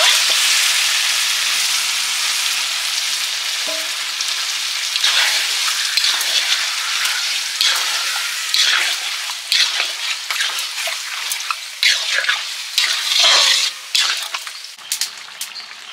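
Tomato and marinated meat for biryani frying in hot oil, a loud continuous sizzle with scraping stirs and crackling bursts that grow busier toward the end.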